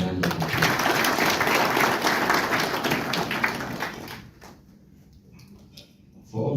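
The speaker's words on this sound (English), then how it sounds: "Let's give them a round of applause." Applause from a crowd at a meeting, a dense, steady patter of clapping that carries on for about four seconds before thinning out into quiet.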